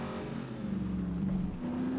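A car driving in The Saboteur video game, heard as a steady, continuous engine drone at moderate loudness with slight shifts in pitch and no talking.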